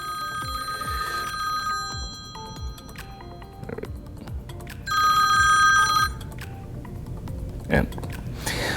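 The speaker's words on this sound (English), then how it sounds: "the call is coming in" An Ajax Video Doorbell call rings through a phone app, its electronic ringtone tones repeating in bursts, loudest in a sustained stretch midway, over background room noise.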